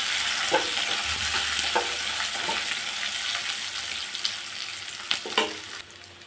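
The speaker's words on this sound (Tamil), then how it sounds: "வெங்காயம் போட்டு நல்லா வதங்கணும்" Onions fry in a hot pan with a steady, bright sizzle, stirred now and then with scattered scraping clicks from the spoon. The sizzle eases slightly toward the end.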